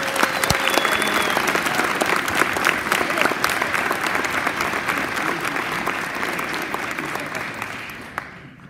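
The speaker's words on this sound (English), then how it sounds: "Let's hear a round of applause for 8B." Sustained applause from the audience at an 8th grade promotion ceremony, steady clapping that tapers off toward the end.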